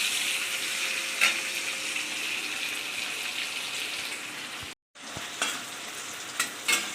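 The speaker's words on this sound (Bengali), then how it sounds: "পেঁয়াজটা লাল লাল করে ভেজে নেব, ভালো করে লাল লাল করে ভেজে নেব।" Onions frying in a pan for a Bengali-style chicken and jackfruit curry, giving a dense continuous sizzle with occasional spatula scrapes and a momentary drop-out midway.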